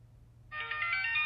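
An outgoing phone call rings back in a single tonal ringtone that starts abruptly after a brief quiet moment and continues clearly and alone.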